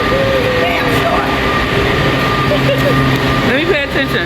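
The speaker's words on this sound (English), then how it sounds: "we're waiting for the train. Union Station, Metro." A Metro subway train at Union Station in Washington, DC rumbles and squeals steadily on the platform, with loud continuous low noise, brief screeching tones near the end and people talking over it.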